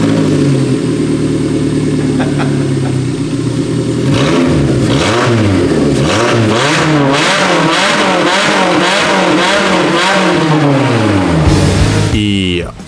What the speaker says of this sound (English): it'd be pretty rude not to start the car up with no exhaust